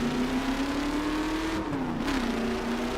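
A revving car engine in the video game The Crew roars steadily at close range, its pitch rising slightly then dipping, with a brief shift in tone partway through.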